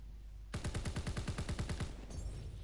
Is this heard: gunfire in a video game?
yes